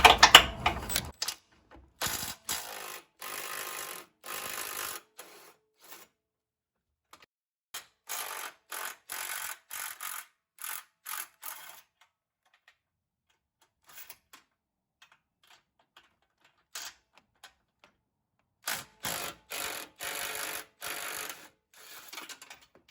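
An impact wrench fitted with a wobble socket and extension removing 18 mm bumper bolts from a Jeep JL, in repeated short rattling hammering bursts separated by pauses, close and loud with no talking.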